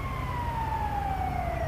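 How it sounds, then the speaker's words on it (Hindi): An ambulance siren on a city street, a steady wailing tone gliding slowly downward, heard moderately close over a low traffic rumble with no talking. "पैरामेडिक सर्विस की आवाज़ भी आ गई, वो सामने से आ रही है देख रहे हो।"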